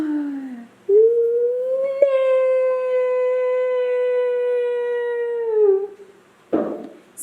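A dog lets out a long, sustained howl, rising slightly and holding steady for about five seconds before tapering off, close and loud, followed by a brief burst of noise.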